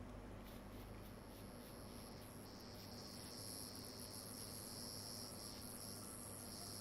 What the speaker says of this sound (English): I don't think I've ever heard a cicada